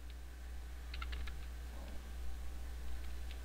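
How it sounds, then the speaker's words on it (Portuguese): Short bursts of keystrokes on a computer keyboard as a command is typed into a Linux server terminal, close and fairly quiet over a steady low background hum. "Agora, eu vou digitar aqui atualiza."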